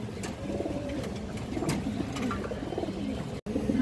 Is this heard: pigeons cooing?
yes